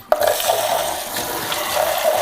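Food being rinsed under a running kitchen tap for a Peruvian dish, heard as a steady, close rush of splashing water that runs unbroken from just after the start to the end, with no talk.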